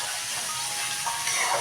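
Sprouted chana seeds with chaat powder sizzle as they fry in a hot kadai, giving a steady, close, even hiss with no voices.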